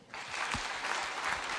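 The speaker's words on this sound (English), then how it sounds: "I think let's give him a clap." Audience applause at a bill-signing ceremony at State House, Nairobi: a steady wash of many hands clapping, fairly distant and even, holding from start to end with no voices.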